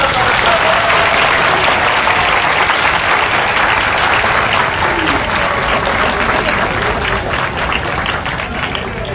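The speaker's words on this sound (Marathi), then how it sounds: "खूप टाळ्या वाजवून पुढे" Sustained loud applause from a large crowd gathered from across Maharashtra at a protest rally, dense steady clapping filling the whole stretch without letup.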